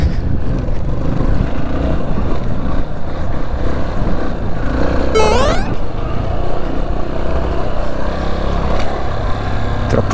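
A Yamaha Tricker 250 motorcycle engine hums steadily while riding, with wind rush and one quick rising whine partway through; nobody speaks.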